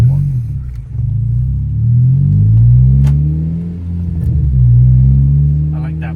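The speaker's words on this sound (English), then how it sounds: "I like that burble." Low, rumbling exhaust burble from a 2013 Honda Civic Si coupe fitted with an Invidia N1 catback exhaust, steady and close as the car drives and revs gently, with people talking over it.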